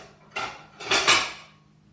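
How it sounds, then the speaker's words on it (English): Dishes and a plate are tidied away in a home kitchen while jacket potatoes are prepared, giving a few nearby clinks and clatters of crockery and cutlery with no speech. "Now this just gives me a minute where I can just tidy everything away and get my plate out ready to serve."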